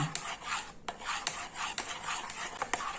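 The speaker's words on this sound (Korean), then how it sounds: "그냥 한 방향으로 계속 저어주세요" A spoon stirs a warm lemon soap mixture steadily in one direction, giving repeated soft rasping, scraping strokes against the container in a loose rhythm, close up, with no voices.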